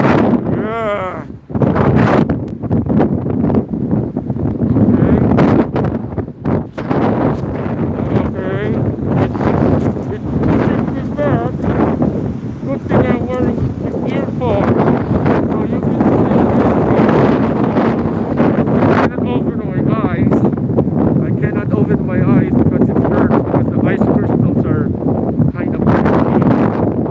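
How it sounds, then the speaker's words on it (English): A strong winter wind on a Lapland morning roars into the microphone in a loud, continuous buffeting rush that barely lets up for almost half a minute. "It's a windy morning right now, and we're facing up against the wind"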